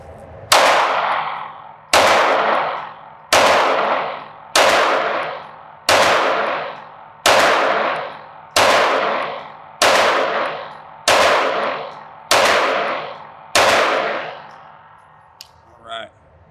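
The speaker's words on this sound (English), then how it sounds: "10 rounds at 5 yards and just kind of see how it feels." A Ruger RXM pistol fires ten slow, evenly spaced shots at 5 yards, each loud crack followed by a decaying echo. A faint click or two follows at the end.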